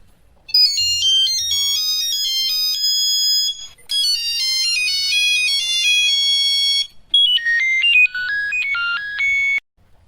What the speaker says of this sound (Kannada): ಫೋನ್ ಹೊಡ್ಕೋತಾ ಇದೆ ನೋಡೆ